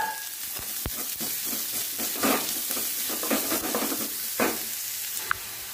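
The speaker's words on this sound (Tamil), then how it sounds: "இது எல்லாத்தையும் போட்டு வதக்கிக்கலாம்" Onion, ginger, green chili and curry leaves sautéing in a pan for samosa filling, a steady close sizzle of frying with occasional sharp scrapes and taps of a stirring utensil, no talk.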